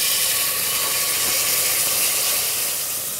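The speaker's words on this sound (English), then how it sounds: "The first step is to cook this chili puree. We're going to start with a little bit of lard. I'm going to add the chili puree to this." Chili puree frying in hot lard in a pan gives a loud, steady, broadband sizzle and hiss with no talk over it.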